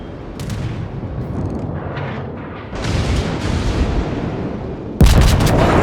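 Heavy naval gunfire from battleships in the World of Warships video game, including a French Dunkerque, with deep rolling booms layered over one another and a sharp, loud salvo bursting near the end.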